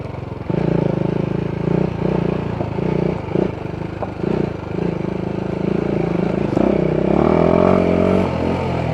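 A BMW G 310 GS motorcycle is ridden on a test ride in Bali, its single-cylinder engine droning steadily and rising near the end, with some clatter from the bike over rough ground.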